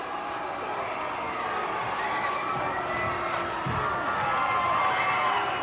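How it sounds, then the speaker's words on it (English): A wrestling crowd in Montgomery roars and cheers through a 1988 Continental Wrestling match, a dense, sustained din with shouts and whoops rising near the end while a commentator talks over it. "Listen to this crowd in Montgomery"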